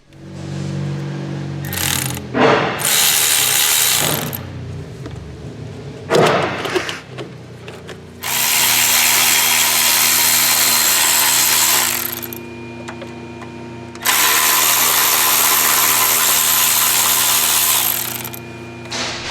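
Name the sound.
ratchet removing engine parts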